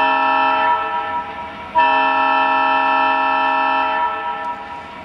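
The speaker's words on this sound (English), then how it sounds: "And here's the whistle, or horn." A Lionel model train horn on a Fastrack layout sounds two sustained electronic blasts, the second starting right after the first, steady and loud with a slight fade at the end.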